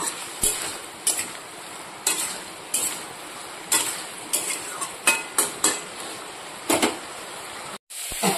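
Potato and cauliflower sautéed with turmeric and salt, with a low sizzle under repeated sharp spatula knocks and scrapes against the pan, arriving in irregular clusters.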